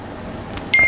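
A phone notification beep, a couple of quick high chirps followed by a sharper electronic tone at the very end, fairly loud over quiet room hiss.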